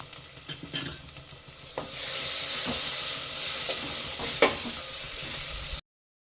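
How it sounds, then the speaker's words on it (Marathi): Homemade onion-garlic masala and red chilli powder fry in oil for a mutton curry, opening with a few utensil knocks before a loud, continuous close sizzle with occasional scrapes, then sudden silence. "तेलामध्ये छान असा आपण मसाला परतून घेतलेला आहे"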